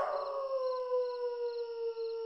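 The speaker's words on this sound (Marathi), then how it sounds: "आता ना कुत्र्यांचं भुंकणं ऐकू येईल." A dog gives one long, sustained howl that slowly falls in pitch. It sounds fairly close and steady, with no barking or other sounds around it.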